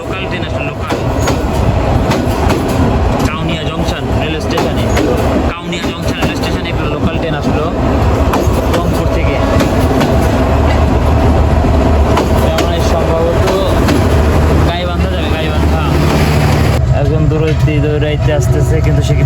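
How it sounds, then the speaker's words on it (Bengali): Steady, loud rumble and rattle of the Rangpur Express running at night from Rangpur to Dhaka, heard from aboard, with rhythmic wheel clatter throughout and voices talking over it. "ওই যে দূরে যে আলোটা আসতেছে ওটা হচ্ছে ইঞ্জিন রিভার্স করে পিছিয়ে থেকে সামনে নিয়ে লাগানো হচ্ছে"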